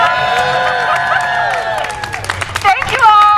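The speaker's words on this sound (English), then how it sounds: "Big round of applause." A climate protest crowd claps and cheers loudly and continuously, dense applause with scattered whoops and babble, a few voices rising near the end.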